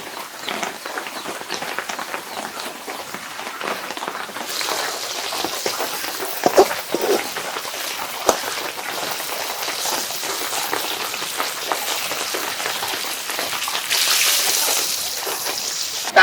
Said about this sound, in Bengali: বৃষ্টি পড়তাছে জোরে